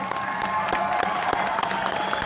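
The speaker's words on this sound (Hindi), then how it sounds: "तो सबसे पहले तो इनके लिए भी एक बार जोरदार तालियां" Applause from a crowd at a Vestige corporate award function in Hyderabad, a steady wash of many hands clapping throughout, fairly loud and sustained with no speech over it.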